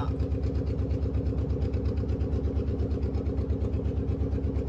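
Boat engine chugging steadily during a river trip on the Ichamati at Taki, a loud, close, even low throb with a fast regular pulse and no talk.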